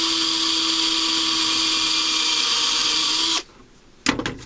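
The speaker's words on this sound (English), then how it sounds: "Alright, so we're going to drill this." A drill bores a hole with a steady high whine that runs for over three seconds, cuts off abruptly, then gives a short rattling burst after a brief pause.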